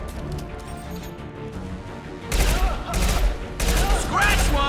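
Sniper rifle impact shots firing in the sci-fi shooter Mass Effect 2, three loud broadband bursts in the second half after a quieter stretch, over game background sound with faint voice-like tones.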